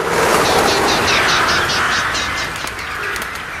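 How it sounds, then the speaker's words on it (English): Crows in the 2002 Resident Evil film give a loud flurry of rapid, repeated calls over a dense, noisy soundtrack, fading slightly toward the end. "the crows are one of Resident Evil's most annoying enemies"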